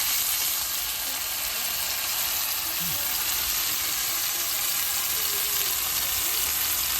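A tuna steak fries in hot oil, giving a steady, loud, hissing sizzle that carries on evenly throughout.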